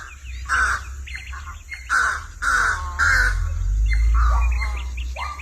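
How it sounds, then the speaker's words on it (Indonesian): A crow in a garden, squabbling with a drongo, gives a series of harsh, loud, close caws in irregular bursts, with fainter chirps from other birds between calls over a low background rumble. "Gagak jenis gaok."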